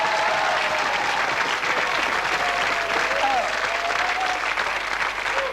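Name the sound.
studio audience applause on TV game show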